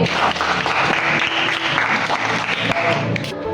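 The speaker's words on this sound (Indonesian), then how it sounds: "Berikan tepuk tangan teman kalian Yongki." Classmates clap for a student in a school classroom, a lively burst of many small hands applauding close by, steady for a few seconds before tapering off, with faint voices mixed in.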